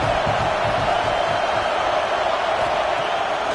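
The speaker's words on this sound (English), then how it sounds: "This crowd bringing the energy and noise early" A large stadium crowd at an American football game roars steadily, a dense continuous wall of cheering and noise with no pauses.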